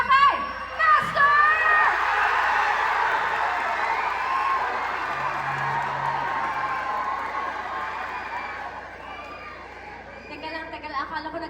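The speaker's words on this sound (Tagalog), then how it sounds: "Malakas na palakpakan at sigawan para kay Master!" A crowd at a fiesta bursts into loud cheering, shouting and clapping that slowly fades, with voices of people talking in the mix.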